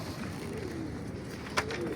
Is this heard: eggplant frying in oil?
no